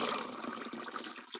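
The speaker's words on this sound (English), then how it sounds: "Pour it into the mason jar." Water pours steadily into a mason jar in a continuous splashing gush for just over a second, close and fairly loud.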